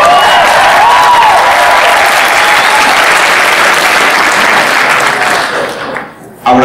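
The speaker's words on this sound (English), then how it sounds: "That's where you applaud yourselves" Loud audience applause fills a convention hall during a cosplay contest, a dense steady roar of clapping with scattered cheers that fades briefly near the end before swelling again.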